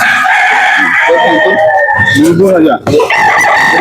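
At a rooster sale in Carbon, Cebu, a rooster crows loudly and close, a long rising-and-falling call, with someone talking around it.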